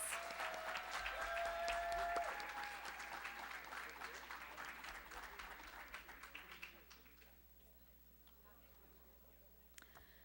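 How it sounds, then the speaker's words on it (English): Guests at a 20th anniversary celebration dinner give a round of applause for the directors, loud at first with some cheering, then thinning into scattered claps and fading to quiet. "Can we get one more round of applause for all of our incredible directors?"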